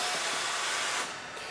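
A Hunter TC39 tire changer's lower roller moves up to loosen a tire bead, giving a loud steady whooshing mechanical hiss close by that drops slightly in level near the end.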